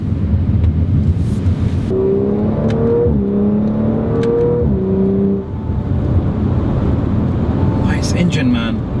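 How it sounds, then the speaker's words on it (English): An Audi RS5 engine accelerates through the gears while driving, a loud steady drone with rising tones that step up in pitch between shifts, with talk over parts of it. "Nice engine, man. Really, really nice."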